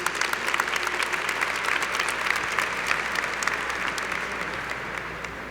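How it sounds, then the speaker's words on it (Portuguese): A church congregation applauds together, a dense, sustained burst of clapping from many hands that fills the room evenly and fades slightly toward the end. "Vamos aplaudir esse texto da palavra de Deus"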